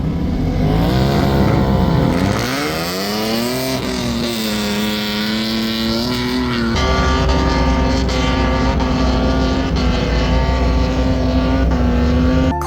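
Roaring motorsport engines at a desert dune festival, loud and continuous with rising and falling revs and pitch sweeps, one engine note climbing after a dip, dense and close with no talk.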